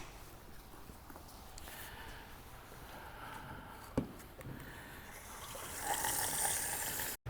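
Water runs into a fire extinguisher being refilled to its water line, a faint, steady gushing and trickling fill that grows a little brighter toward the end, with a soft knock partway through.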